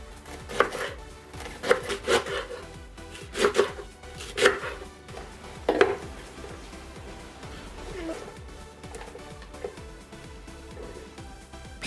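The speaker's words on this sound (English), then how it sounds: "These are now clean, so I'm just going to slice them." A knife slices cleaned leeks on a chopping board, with sharp, distinct cuts coming in uneven bursts and close up, then thinning out toward the end.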